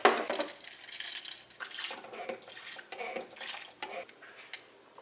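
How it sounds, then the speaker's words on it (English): A straw stirs a latte in a cup, giving soft liquid swishing with light clinks and rattles in quiet, irregular bursts close by. "let me get a straw and stir it up"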